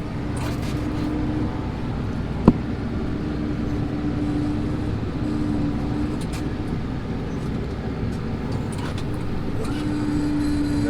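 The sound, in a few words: tractor reversing while ploughing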